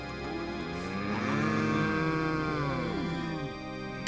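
A cow gives a long, loud, drawn-out moo that rises and falls in pitch for several seconds, close by and with no talking.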